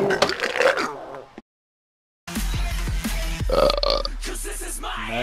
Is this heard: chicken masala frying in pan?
no